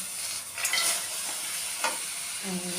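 Radish greens are stirred in a dry kadai, making a hissing, sizzling fry with a couple of soft spatula scrapes. The sound is close and steady, with no one talking.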